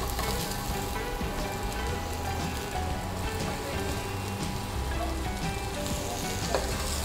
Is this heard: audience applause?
no